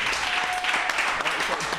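Steady, dense applause from a crowd at a stage show during Apple Expo 2006, cheering for a technician. Voices mix in under the clapping throughout.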